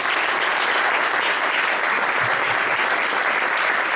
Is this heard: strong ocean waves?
no